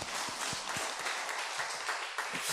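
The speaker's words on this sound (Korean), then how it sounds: "우리 하나님께 박수로 영광 드리겠습니다." A church congregation applauds in praise, a soft, fairly distant patter of many hands sustained for a couple of seconds, with a few sharper individual claps near the start.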